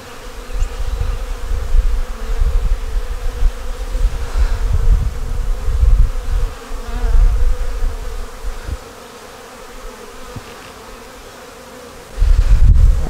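Honeybees swarming around an opened hive with drone and worker brood frames, a dense, close buzzing hum that swells and dips, quieting for a stretch before rising loudly again at the end.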